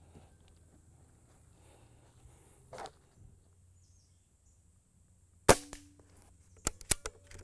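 A Benjamin Marauder .22 air pistol fires, a sharp close crack followed by a few quick mechanical clicks, with a fainter snap earlier amid quiet outdoor ambience.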